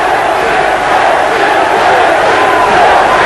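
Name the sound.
boxing crowd chanting the fighter's name Thierry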